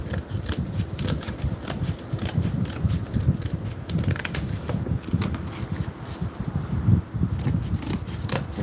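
Cardboard being cut in half for a medieval tavern model, heard as a continuous run of close crunching, snipping cuts and rustling with no speech.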